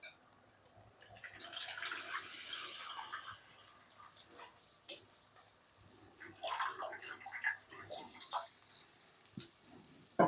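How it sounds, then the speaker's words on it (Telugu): Tamarind juice poured into a pot of fish curry, an irregular splashing and trickling of liquid close by, coming in bursts with short pauses and a few sharp clinks. "ఇంకా చింతపండు ఈ జ్యూస్ని మనము వేయాలండి, దీంట్లో పోసేసుకోవాలి."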